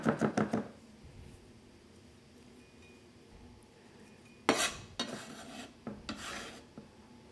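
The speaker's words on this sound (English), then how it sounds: "a couple of cloves of garlic. You want it nice and finely chopped." A knife chops garlic cloves finely on a board in a home kitchen, with quiet rasping scrapes and bursts of quick knife strokes, close and fairly faint.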